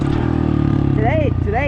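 A dirt bike engine drones and revs during a wheelie, a steady buzzing motor sound heard up close beneath someone talking.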